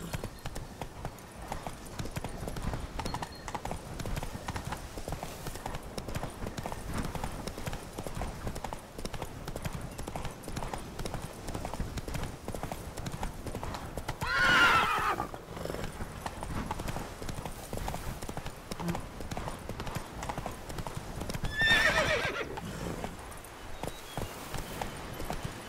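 A horse gallops in The Witcher 3 Blood and Wine, hooves clip-clopping in a fast steady rhythm for the whole stretch, with two brief louder bursts of movement along the way.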